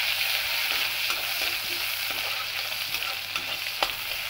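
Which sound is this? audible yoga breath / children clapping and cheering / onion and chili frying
onion and chili frying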